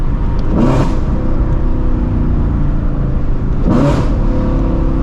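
Shelby GT350 engine under a hard pull, a loud sustained roar heard from inside the cabin, with two sharp rev blips on the downshifts about three seconds apart.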